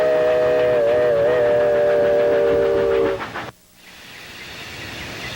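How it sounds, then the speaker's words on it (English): Steam passenger train of the East Tennessee and Western North Carolina Railroad approaching the Elizabethton depot, its whistle sounding loud and long with wavering tones before cutting off into rumbling rail noise. "the passenger train approaches the depot"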